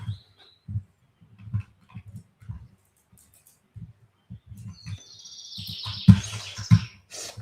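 Real songbirds chirp in the background, high twittering that builds up near the end among scattered low thumps and bumps nearby.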